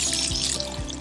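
Water is poured onto young sweetcorn seedlings, a short soft splash and trickle heard close up with no one talking.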